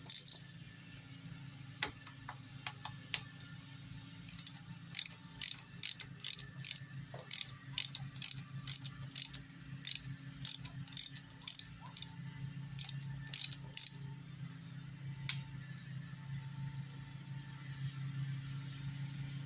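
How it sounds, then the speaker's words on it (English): Ratchet wrench loosening a bolt on bicycle brakes, a close series of quick ticking pawl clicks in short bursts with pauses between them, over a faint low background rumble. "Now the next bolt we got to get loose,"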